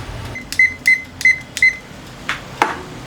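An oven's control panel gives four crisp, evenly spaced beeps as it is set to preheat for baking banana bread, followed by two fainter, softer tones.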